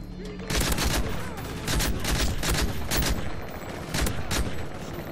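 Rapid, loud bursts of automatic gunfire from a weapon in Call of Duty Modern Warfare 3 Special Ops missions repeat steadily over a dense background of game noise.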